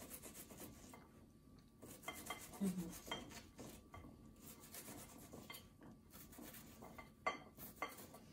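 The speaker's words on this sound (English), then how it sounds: "And then I'm chopping it like so." Raw potatoes for potato pancakes are chopped with a knife on a board, giving a steady run of faint, quick scraping and tapping strokes close by, with one sharper knock near the end.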